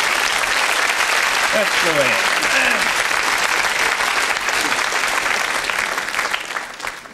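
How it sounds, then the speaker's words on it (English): Studio audience applause at a live 1987 television comedy show, a steady loud wash of clapping welcoming a volunteer from the audience, with someone speaking briefly over it before the applause thins toward the end. "Give him a round of applause,"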